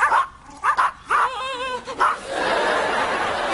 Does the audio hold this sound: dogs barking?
yes